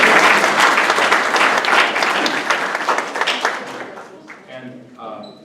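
An audience at a church adult forum breaks into loud, dense applause that carries for several seconds before fading out as a voice begins to speak.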